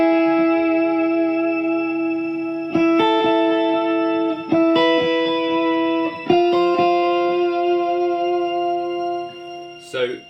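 Sustained electric guitar chords through a Fractal FM3 with octave shimmer, a synth-like pitched-up reverb, each strum ringing out into a lush, bright wash that fades at the end.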